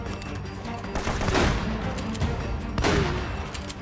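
Gunfire in the video game Uncharted, with two loud, booming shots about a second and a half apart over a dense, steady game background noise.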